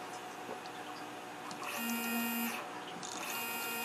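CNC rotary A-axis stepping under wireless pendant control in a WinCNC setup, giving a steady motor whine with brief tonal runs, moderately close over shop hum, no talking.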